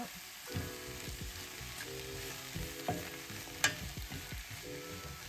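Onions and carrots with Guérande salt get stirred in a pan, a soft sizzle under repeated scraping strokes of a utensil and a few light knocks, close by and fairly quiet, with no voices.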